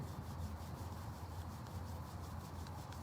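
Palms rubbing together at the close of an outdoor yoga session on a field, a steady, soft, continuous friction swish held close and fairly quiet for the whole stretch.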